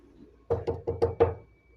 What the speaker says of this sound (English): And just then, they got a knock at the door.